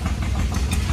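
A small bottle frame model engine machined entirely from bar stock runs steadily at a tractor show, giving a close, continuous mid-pitched chugging with a faint knocking pulse and no voices over it.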